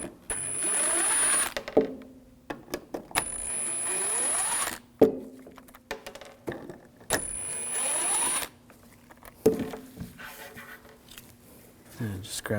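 A T20 socket turns out headlight screws on a 2007–2013 BMW 328i. Repeated bursts of whirring and ratcheting are broken by short clicks and pauses, close and fairly loud.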